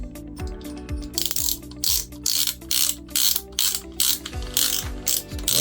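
A Shimano SpeedMaster 14000XSD fishing reel with its spool removed spins out loud, crisp ratchet clicks up close. Bursts of rapid pawl clicks repeat in a steady rhythm, each with a dull mechanical knock.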